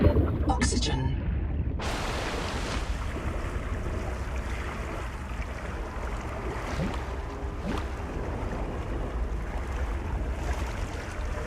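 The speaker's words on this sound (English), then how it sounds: "Wow, the waves are like so much higher in this game." Rolling ocean waves in the survival game Subnautica 2, a steady, full wash of surf and churning water that fills the scene continuously, with a voice talking over it.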